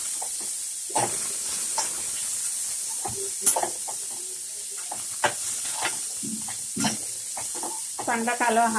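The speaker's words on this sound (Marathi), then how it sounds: "कांदा हलवून घ्यायचा." Onion frying in a pan for a bitter gourd sabzi, a constant hiss broken by repeated scraping stirs and clinks, with some speech-like sound near the end.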